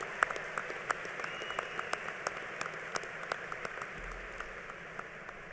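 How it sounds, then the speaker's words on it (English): Applause for a high school chorale at a graduation ceremony, scattered sharp claps sounding fairly distant and thin over a hall's background hush. "How about another nice round of applause for our CHS chorale?"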